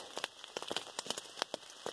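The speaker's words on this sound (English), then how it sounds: "that's rain on my Cuban Fiber Z-Pax duplex tent" Rain patters on a Cuben Fiber Z-Packs Duplex tent during an Appalachian Trail thru-hike, irregular close taps and crackly drops striking the thin fabric with no talk.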